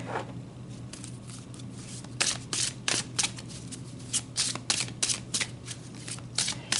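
Tarot cards being shuffled and pulled from the deck, a run of soft riffling and flicking bursts at close range over a low steady hum, no voices.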